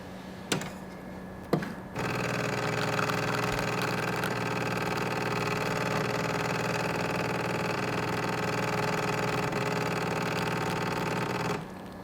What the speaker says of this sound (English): Hey Siri, prepare espresso.